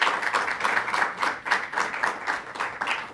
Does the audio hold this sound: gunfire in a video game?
no